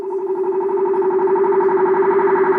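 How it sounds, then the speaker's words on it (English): A sustained vocal tone with a fluttering, repeating echo tail, smeared by heavy delay effect, steady and moderately loud. "put lots of delay, like this kind of trip delay effects to get a bit more like impact"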